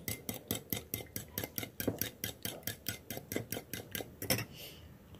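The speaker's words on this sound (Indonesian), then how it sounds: "Ini saya sudah pecahkan dan saya akan kocok." Eggs are whisked with quick, steady strokes in a bowl, giving about twenty close, evenly spaced clinking taps in a brisk rhythm before the sound stops. No one talks.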